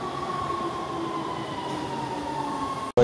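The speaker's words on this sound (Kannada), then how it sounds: "ಈ ಮೆಟ್ರೋ ಟ್ರೈನ್ ಹತ್ತದ್ವಿ" A Los Angeles metro train rolls along with a steady, loud rumble and a sustained tonal hum. A few faint squeals ride on top, and a sharp burst of noise comes right at the end.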